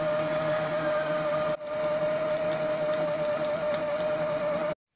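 Food processor mincing chicken and vegetables, a loud continuous motor whine with a steady pitch, briefly dipping once before resuming, then cutting off abruptly at the end.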